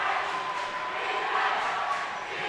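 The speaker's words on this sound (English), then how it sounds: "Crestline crowd has come alive." A Crestline crowd cheers at an Ohio boys' high school basketball sectional championship against Monroeville, a steady, loud, roaring gym din that swells slightly midway.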